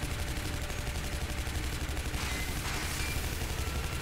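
Steady gunfire from the video game Shadow Warrior makes a dense, continuous rattle of shots over a constant rumbling game soundscape. The firing is loud and unbroken, and no one talks over it.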